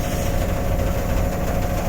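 An air compressor runs in a workshop during an old-car body restoration, giving a steady, loud mechanical drone with a low hum and no pauses.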